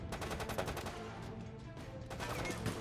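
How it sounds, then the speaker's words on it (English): Rapid automatic gunfire in the video game Operation Raccoon City, a dense stream of sharp cracks and bursts at moderate distance, repeating steadily throughout with no speech. "I can hear gunfire."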